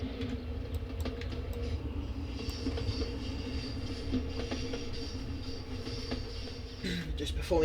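Class 205 diesel-electric multiple unit in Train Simulator running steadily, a constant low engine drone with rail rumble and faint clicks throughout, a brief shift near the end.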